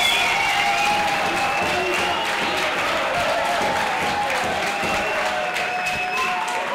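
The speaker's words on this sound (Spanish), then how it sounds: "Un aplauso para ella también" Audience applause at a wine week tasting event honoring a school board member, a continuous dense wash of clapping from a crowd with some cheering and a few voices underneath, steady throughout.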